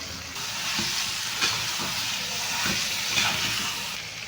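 Chicken skins fry in hot oil over cooked-down spice paste, giving a loud, steady hiss and sizzle with occasional stirring scrapes.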